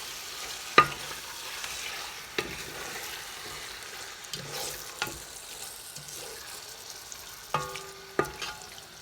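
Chicken coated in masala with a cup of yogurt is stirred in a pan, giving soft scraping strokes and a few sharper utensil clinks over a low, quiet sizzle.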